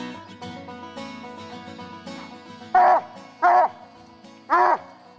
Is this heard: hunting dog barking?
yes